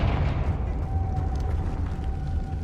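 A Confringo blasting spell going off in Hogwarts Legacy, a low rumbling burst with a muffled boom and debris-like crackle that sustains steadily, alongside a faint thin tone.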